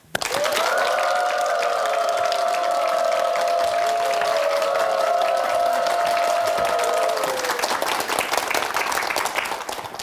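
An audience claps and cheers steadily to welcome a lecturer onstage at a talk, loud, dense applause running throughout with a sustained tonal background hum, no speech over it.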